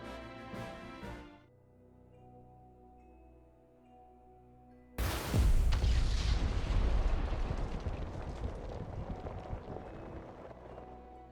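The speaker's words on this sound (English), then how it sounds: "Dragan, meanwhile, presides over the blasting of a new tunnel at the Grand Norzellian mines." A blasting explosion in a mine tunnel at the Grand Norzellian mines in the game Triangle Strategy. A quiet musical passage gives way to one sudden loud boom, which rolls into a long rumbling roar of debris that slowly fades.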